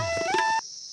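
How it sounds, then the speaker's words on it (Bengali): A steady, high, continuous chirring of crickets beside a mountain road near Aritar on the Sikkim Silk Route, briefly overlaid at the start by a louder tonal sliding sound that cuts off abruptly. "আর আমাদের এই পথের সবসময়ের সঙ্গী ঝিঝি পোকার ডাক।"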